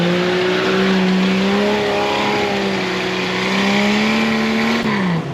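A Jeep Cherokee drives and climbs hills, its engine holding a steady loud drone whose pitch slowly wavers under load. The pitch drops briefly near the end.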